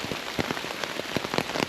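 Heavy rain during Hurricane Helene in North Georgia patters steadily on surfaces nearby, with dense irregular drop impacts forming a continuous wash without voices.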